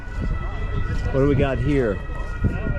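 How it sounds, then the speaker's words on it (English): A European two-tone police or ambulance siren wails briefly in the background while someone speaks over it nearby, with traffic noise throughout. "that sound you hear in the background is what the police sound like over here, or ambulance"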